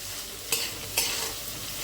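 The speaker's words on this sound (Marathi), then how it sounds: "आता हे व्यवस्थित आपण मिक्स करून घेत आहोत" Ridge gourd tossed with oil and salt in a kadhai: a steady soft sizzle with two sharper scraping strokes of the spoon about half a second apart, close and alone.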